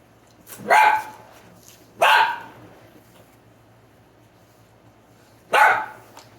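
A dog barks three times at close range, two barks in quick succession and then one more after a pause, over a quiet background with no talking.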